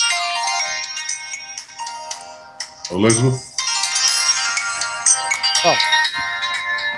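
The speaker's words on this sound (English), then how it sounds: "It was my phone." A mobile phone ringtone plays in a meeting-room discussion, a bright repeating melody running for several seconds while people speak briefly over it.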